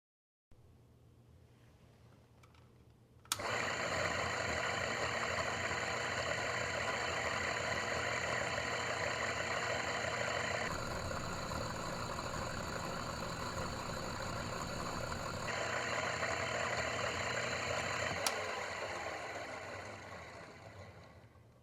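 Electric motor switching on abruptly after a capacitor replacement, then running with a steady whirring hum and tonal whine, close and constant, before winding down and fading near the end.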